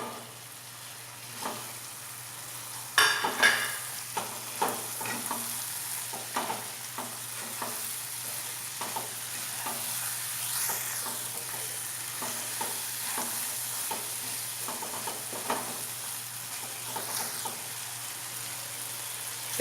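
Prawns sizzle and fry in a cooked-down spice paste for Bengali-style doi chingri, with a burst of hissing as they go in, then steady crackling and repeated stirring scrapes, close and fairly quiet, without talk.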